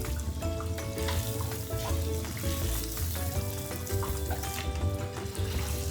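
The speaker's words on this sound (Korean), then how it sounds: "흔들어서 튀기는 튀김 스타일." Dense, continuous sizzling and crackling of squid and other fritters deep frying in hot oil at a snack shop, shaken in the fryer, loud and close, with no talking.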